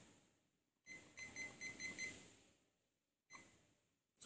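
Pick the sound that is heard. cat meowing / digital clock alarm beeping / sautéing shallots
digital clock alarm beeping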